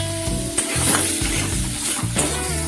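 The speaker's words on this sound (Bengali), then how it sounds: "এটা ভেজে নিচ্ছি, হলুদ আর লবণ দিয়ে আলুটা ভেজে নিই" Potatoes frying in a little oil with turmeric and salt, a steady close sizzle with repeated scraping stir strokes in a rhythmic pattern, no talking.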